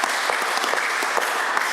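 Members applaud in the Legislative Assembly of Alberta chamber during an evening sitting: a brief, dense burst of many hands clapping at once, loud and even throughout.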